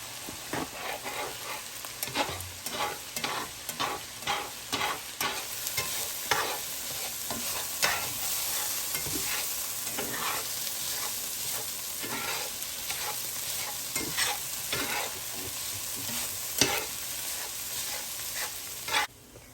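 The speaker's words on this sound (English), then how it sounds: "I'm gonna scramble up some eggs." Eggs being scrambled in a frying pan, a close sizzle broken by a steady run of spatula scrapes and taps against the pan, going on without any voices.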